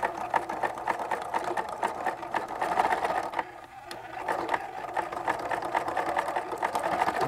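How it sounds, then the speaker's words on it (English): A sewing machine zigzag-stitches the fabric edges of a zipper pencil case, running steadily with a fast rhythmic clatter close by and a brief slowdown midway. "I'm going to take and zigzag the edges on this also"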